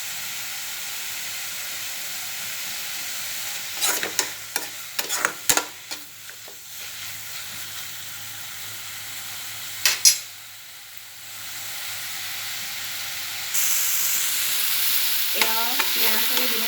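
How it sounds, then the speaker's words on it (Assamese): Onion and tomato frying in a pan for a fish curry while being stirred: a steady soft sizzle with scattered scraping strokes of the spoon near the start and middle, then a louder hissing burst toward the end. "2 মিনিটমান সময় ধুনীয়াকৈ ভাজি ল'ম"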